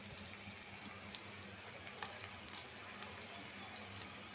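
Onion frying in a pan with garlic paste and ginger paste just added, a steady soft sizzle with faint stirring clicks, fairly quiet and continuous throughout.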